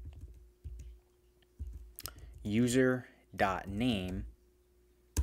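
Keyboard typing on a Mac while entering a Git configuration command: a few soft, scattered key clicks early on, followed by someone speaking over faint further taps.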